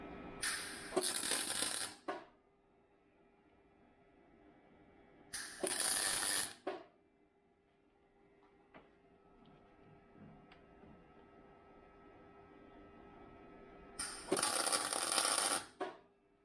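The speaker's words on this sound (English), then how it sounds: "I'm just going to weld from here down to here" Short bursts of MIG tack welding on a Volvo C30 race car roll cage, three crackling bursts each lasting about a second, spaced apart with quiet pauses between them, close and fairly loud.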